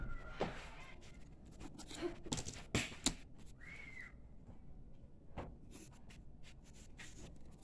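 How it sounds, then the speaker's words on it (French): A pencil draws an angle on paper using a ruler and protractor in a first-year secondary geometry lesson, making quiet, intermittent scratchy strokes with small taps and brief faint whistling tones in between. "On prend le rapporteur et on dessine un angle"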